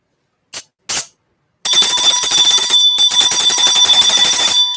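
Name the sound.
bell being rung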